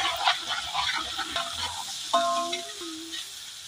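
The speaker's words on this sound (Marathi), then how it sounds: "सुकट जरा त्याच्यात परतून घ्यायची" Dried fish is stir-fried in a pan with onion masala, turmeric and spice mixes, giving a faint, steady sizzle broken by soft scraping strokes of a spoon.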